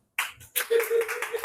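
A short burst of audience clapping at a comedy show in Cotonou, starting abruptly after a brief silence and mixed with a voice speaking over it.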